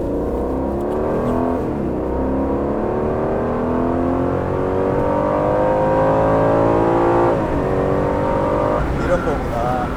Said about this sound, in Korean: 지금 그냥 GT 모드에서 가속만 잠깐 해봤고요